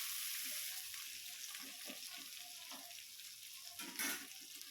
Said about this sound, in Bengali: আমি লাল লাল করে আলুগুলো একটু ভেজে নিই।